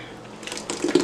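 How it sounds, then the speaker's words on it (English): Blended fruit cake batter for a Jamaican cake is poured into a container, a short wet splashing pour that swells toward the end, close and fairly loud with no talking. "we're gonna pour it out in a container"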